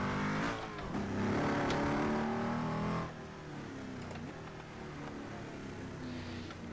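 Hennessey Venom GT engine in the racing game Assetto Corsa, revving loud and strained for about three seconds, then dropping to a lower, steadier drone as the car keeps driving.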